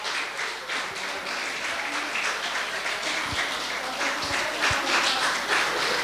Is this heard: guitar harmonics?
no